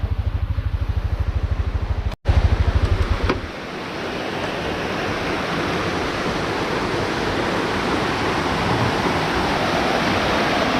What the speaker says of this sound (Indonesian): Nah, ini ada sungai